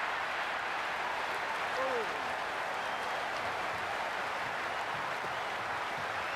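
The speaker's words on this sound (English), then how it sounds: "It's the most enthusiastic crowd you could ever see right now. There's a buzz, a real buzz coming from the stands" A large crowd in the stands of a cricket stadium at an India vs South Africa T20 World Cup match keeps up a steady, dense roar of cheering throughout, with a commentator's voice over it.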